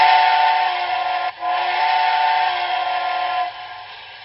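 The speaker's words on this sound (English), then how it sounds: "Whistle." A steam locomotive whistle from the sound decoder of a BLI GS-4 model train sounds as a loud, chordal, sustained blast with a brief break near the start, then fades slightly toward the end.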